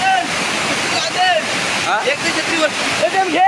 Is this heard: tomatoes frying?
no